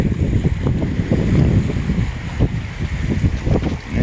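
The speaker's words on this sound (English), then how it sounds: "it's a little windy today, so I'm gonna try and cover up the microphone so wind isn't blowing into it" Strong wind buffets the microphone on the seashore of Cape Breton Island, a constant low rumbling roar with gusty bumps throughout, close and loud with no talking.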